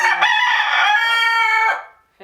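A rooster crows once, loud and close, a long strained call that tails off, followed by a short squawk at the very end.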